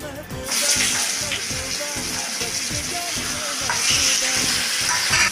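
Dry chilli, nigella seeds and taro frying in hot oil on a griddle, a loud continuous sizzle with rapid crackling and repeated stirring scrapes, close up.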